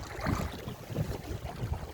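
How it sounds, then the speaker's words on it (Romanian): Electric outboard motor pushing a small fishing boat across open water, a low steady churning hum with wash and wind noise around it, continuous and close. "Deci avem un motor electric, da? Care ne deplasăm pe apă."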